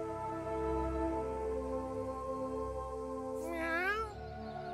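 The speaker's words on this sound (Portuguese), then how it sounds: "Ó, eu escutei um gato." A single wavering cat meow rises and falls near the end of a scene in a South Park video game, heard over a steady humming tonal background.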